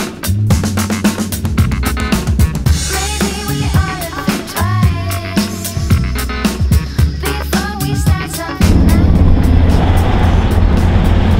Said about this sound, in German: wir fahren jetzt gerade in einer Dreierkolonne